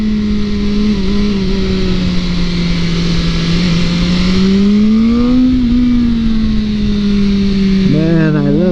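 A 2023 BMW M 1000 R motorcycle engine hums loudly and steadily while riding on twisty roads, its pitch slowly sinking and rising, then wavering as the revs shift near the end, with heavy wind rush throughout.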